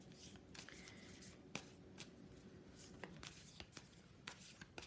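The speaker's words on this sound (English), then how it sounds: "I'm just shuffling the deck." A deck of Alice in Wonderland tarot cards being shuffled by hand, a quiet, steady papery riffle and rustle with small taps, close and faint with no talking.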